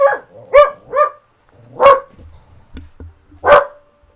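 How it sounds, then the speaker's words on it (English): A dog barks repeatedly and close by, a quick burst of three yips followed by two louder, spaced barks, with quiet gaps between. "Apologies for the dog barking."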